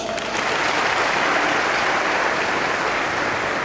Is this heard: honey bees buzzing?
no